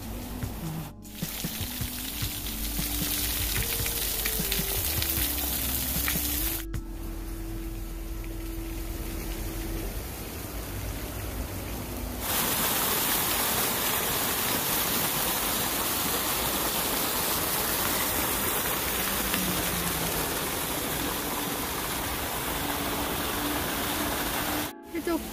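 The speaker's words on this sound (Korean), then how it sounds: "정경 분수." Water fountain at Semiwon, the water and flower garden, rushing and splashing steadily throughout with a constant broadband roar, while faint musical tones sit underneath at times.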